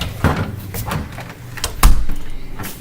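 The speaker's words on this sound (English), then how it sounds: "The door opens smoothly." A door swings open with a soft creak and a solid thump partway through, a few light knocks and handling noises around it, close by.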